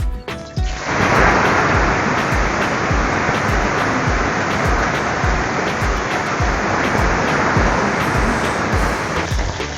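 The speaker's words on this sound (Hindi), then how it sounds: "उसके बाद हम कढ़ाई में तेल डालेंगे और इसमें गोभी भूनेंगे।" Cauliflower frying in hot oil in a kadhai, a loud dense sizzle that starts abruptly and holds steady throughout.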